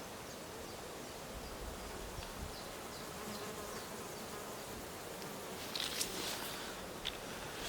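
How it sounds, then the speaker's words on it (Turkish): Flies buzz steadily around a resting spot in a forest, where wild boar have been digging the ground nearby, a constant insect drone with occasional louder passes close by. "Çok sinek var."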